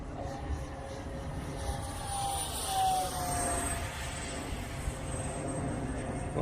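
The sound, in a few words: twin 64mm EDF RC MiG-29 jet flying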